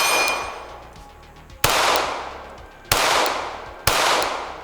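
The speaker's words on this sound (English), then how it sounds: "I actually haven't shot steel in a while," Handgun shots ringing on steel targets at an outdoor range, three sharp loud cracks about a second apart, each followed by a long decaying metallic ring over a steady hiss.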